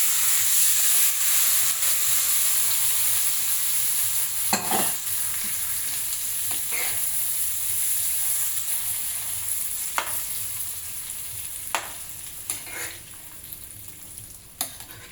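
Tempering being stirred into cucumber and tomato chutney, with a continuous sizzle and steamy hiss under scattered sharp clinks of a spoon against the pan.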